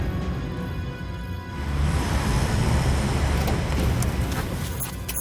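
A car driving along a road, a steady broadband rumble of engine and tire noise that swells slightly midway, close and continuous with a faint hiss on top and no voices.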